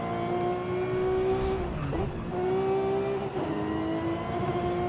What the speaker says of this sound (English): I love how high it revs.